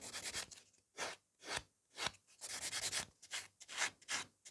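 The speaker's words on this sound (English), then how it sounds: "And I'm buffing to the point when it's safe to buff it, so the glitter doesn't come off." Nail buffer buffing glitter gel polish on fingernails, a close, dry rubbing swish repeated in short bursts about every half second to second, with brief silent gaps between strokes.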